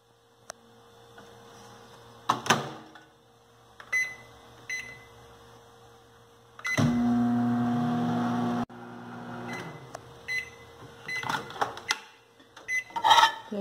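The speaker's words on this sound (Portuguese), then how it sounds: "vou levar o micro-ondas na potência máxima por 20 segundos" Microwave oven running at full power for about twenty seconds to heat a whole garlic bulb, a steady mains-like hum with a louder running stretch, framed by button beeps, clicks and door handling.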